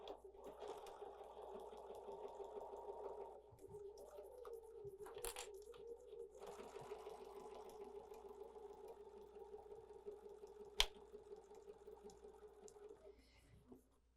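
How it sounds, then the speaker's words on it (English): A sewing machine stitches fabric binding in a quiet room, its soft whirring motor running in long steady stretches with brief pauses and a small click near the end. "so I'm going to start sewing here"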